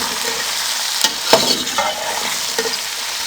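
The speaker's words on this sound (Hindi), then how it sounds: "अब इन तीनों चीज़ों को 4 से 5 मिनट मीडियम फ्लेम पे हम फ्राई कर लेंगे।" Chopped capsicum and vegetables being stir-fried on a medium flame, with a loud, close sizzle broken by a few sharp spatula scrapes and clinks.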